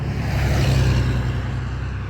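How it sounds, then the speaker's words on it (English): A loud, rumbling vehicle engine roars close by throughout, a heavy low drone like a truck going past. "comes a loud truck"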